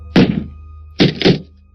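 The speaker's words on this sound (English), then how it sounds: "There was a bang at the front door." A loud bang on a front door, one heavy thump followed by two quick hits in succession, close and sharp with no talking.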